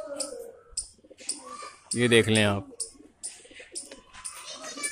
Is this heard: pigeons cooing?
yes